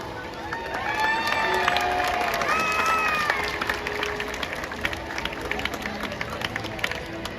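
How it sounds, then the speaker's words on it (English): At a SeaWorld San Diego orca show, a large audience claps and cheers, with a few high whoops early on over a steady bed of applause that continues at a moderate distance throughout. "Everyone give a big round of applause to 31-year-old Keith."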